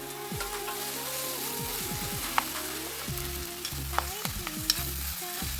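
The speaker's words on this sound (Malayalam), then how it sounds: "നമുക്ക് നന്നായിട്ടൊന്ന് മിക്സ് ചെയ്യാം" Potato mixture for cutlets being stirred in a pan: repeated scraping strokes of a spoon under a constant low sizzle, close and fairly quiet, with occasional light clinks and no voices.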